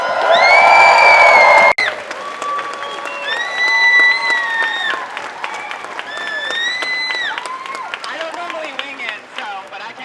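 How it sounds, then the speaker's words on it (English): At a protest rally, a crowd applauds and cheers in a dense roaring burst that stops abruptly, followed by scattered whoops, calls and lingering claps over murmuring voices. "So give yourselves a round of applause for being here."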